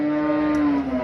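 A single close, loud moo from a tall cow at an outdoor cattle market in Samarkand's Oqdaryo district, a sustained tonal low that holds steady and then drops away.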